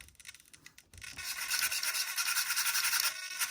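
The small motor and gears of a Tamiya TT02 rally-chassis RC car with an Escort Cosworth body chatter with a rapid, rough grinding that starts after a brief pause and continues steadily, fairly close.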